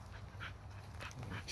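A heartworm-positive rescue dog from South Carolina pants softly with faint breathy whimpers, close and quiet in a calm setting.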